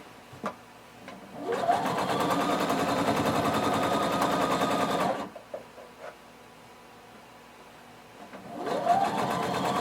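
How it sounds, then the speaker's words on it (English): A sewing machine runs steadily for about four seconds, back stitching a 5/8-inch seam on a pant leg, then stops and restarts briefly near the end. The whirring is close and even, with no talking. "I'm going to back stitch. And we're sewing 5/8 of an inch seam allowance all the way up"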